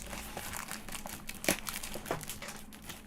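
Cardboard crinkling and tearing as the side of a shipping box for a PowerA Fusion Pro controller is cut open, steady rustling close by with a sharper rip partway through.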